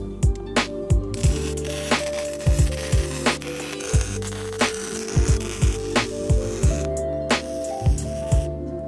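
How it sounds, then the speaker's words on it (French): Steel tube handles for home gym accessories being welded with a Lincoln Speedtec 200C welder: a crackling, sputtering arc with regular short bursts and a steady electrical hum, close and moderately loud, without speech. "je vais directement commencer par souder les poignets"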